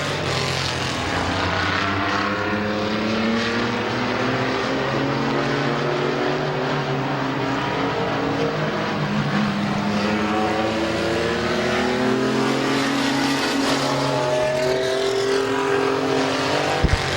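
Race cars roar around Midvale Speedway during an April 2017 race, their engines droning loudly and steadily as the pitch rises and falls while the cars pass and circle the track.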